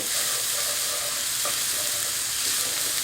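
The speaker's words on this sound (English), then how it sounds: "when the oils get hot, I'm going to throw 6 cloves that are already peeled and minced garlic" Minced garlic, six peeled cloves, frying in hot oil: a steady, close sizzle with a faint stir or scrape near the middle, and no voices.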